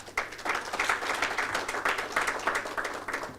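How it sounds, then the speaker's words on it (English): An audience at the African Development Bank's 57th Annual Meetings breaks into sustained, dense applause, many hands clapping steadily at an even loudness for several seconds with no speech over it. "You can clap for them."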